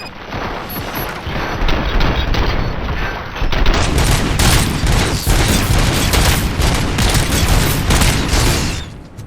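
Sustained gunfire in the first-person shooter RoboCop: Rogue City, a dense continuous barrage of rapid shots and booms, loud and close, intensifying after a few seconds and running almost the whole time without any voices.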